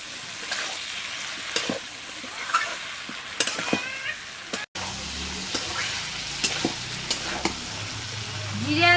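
Fried dried fish being stir-fried with taro stems in a pan: a low sizzle under repeated sharp scrapes and clacks of a spatula, with a brief cut midway and louder frying near the end.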